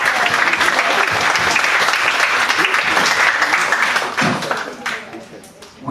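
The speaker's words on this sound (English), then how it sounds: "So applaud them." Audience applause for public school teachers at a talk on expanding education, loud, dense clapping from a crowd that holds steady, then thins and fades out over the last couple of seconds.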